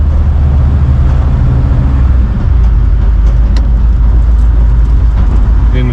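A Chevy OBS race truck engine drones loudly and close from inside the cab, its low rumble dropping in pitch partway through as the transmission downshifts, then holding steady.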